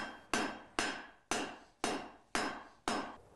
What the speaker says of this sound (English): Inside that recreation, visitors are treated to a live blacksmith demonstration